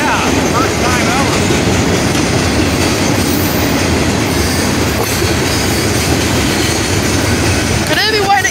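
A CSX freight train rolls past at State Route 19 in Kingsway, Ohio, loud and close with steady rumble, wheel clatter and a brief squeal near the end.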